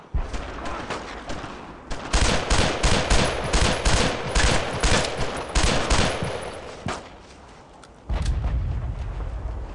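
Sustained suppressing gunfire in the World War II shooter Brothers in Arms: dense, rapid bursts of rifle and machine-gun shots crackle loud and close for several seconds, ease off briefly, then a fresh volley starts.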